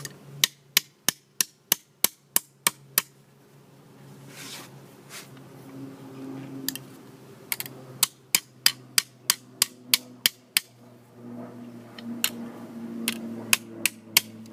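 A hammer strikes metal in a run of sharp, evenly spaced blows: quick, regular taps at first, then a few scattered hits, another cluster and a last brisk series. Each blow rings close and distinct over a quiet room hum.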